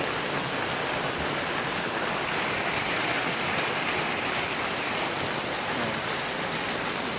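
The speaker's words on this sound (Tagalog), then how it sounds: "So mga ka-idol nyo, naabutan kami ng ulan." Steady heavy rain falls during a trip to San Mateo, Rizal, a continuous dense hiss of drops on surfaces with no pauses, close and loud, with no talking.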